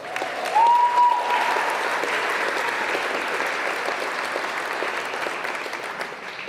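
A wedding crowd claps and applauds the bride continuously, loud and close, with a brief whistle near the start.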